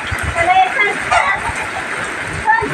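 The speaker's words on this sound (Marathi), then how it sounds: "भरपूरच पाऊस आलाय।" Sudden heavy rain pours down outside a rural home where chickens had been let out, making a dense, steady hiss throughout while people talk over it.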